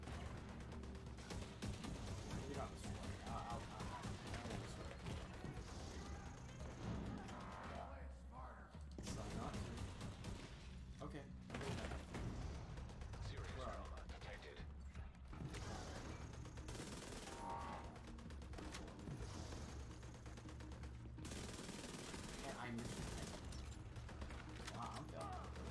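Gameplay of The Division 2 on hard mode is filled with continuous gunfire and explosions, dense, loud and layered, with a voice talking over the combat.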